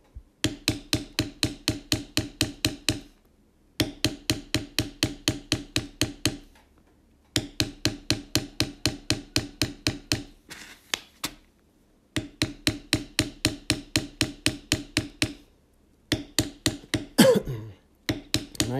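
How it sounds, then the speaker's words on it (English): Rapid, steady metal tapping of a steep XX Barry King checkered beveler struck on leather to bevel a belt border, loud and close in runs of quick even strikes broken by short pauses. "border like that, I like to bevel it first. Simply just to get a nice crisp border."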